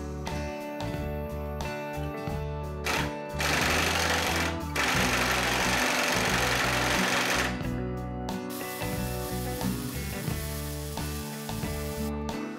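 Air impact wrench hammering on a Porsche 356 axle tube, loud sustained rattling bursts of a few seconds each with brief pauses between, close up in a workshop with background music.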